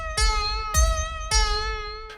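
Dry synthesized melody built in Reaktor with Polyplex, three sharp bright notes with strong low thumps at each attack, close and alone with no reverb tail.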